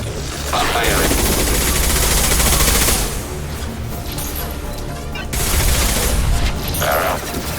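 Sustained automatic gunfire in the video game Mass Effect 2, a loud dense rattle of rapid shots that runs almost without a break, with a brief lull in the middle and short game voice lines over it.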